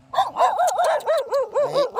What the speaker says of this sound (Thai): หมาเห่าอีก